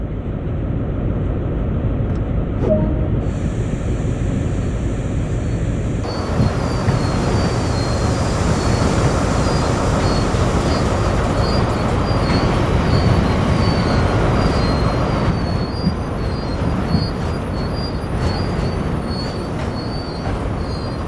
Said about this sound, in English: All you need to do now is bring the train to a gradual stop.